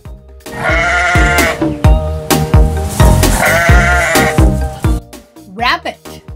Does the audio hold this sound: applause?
no